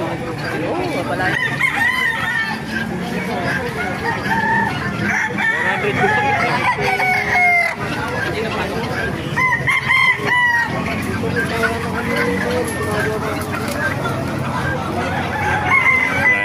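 Gamecock roosters of Sinibalang, Bulik, Hennie and Golden breeds crow repeatedly while hens cluck nearby, a busy, close farmyard chorus with people talking intermittently underneath.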